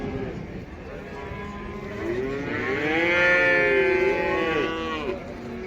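A two-calved dairy cow at the Taraz livestock market moos in one long, loud, drawn-out call that swells in the middle, with market chatter and crowd noise around it.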